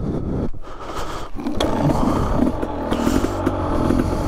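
KTM 300 EXC two-stroke dirt bike engine starting outdoors in woods, rough loud idle and blips close by with clattering, no speech.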